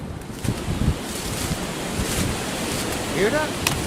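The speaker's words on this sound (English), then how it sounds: "this sounds like some Final Destination wind" Strong wind blowing across a hiking trail in Bolton Notch State Park, Connecticut, a steady broadband roar with gusty swells buffeting the microphone, plus a brief whistling tone near the end.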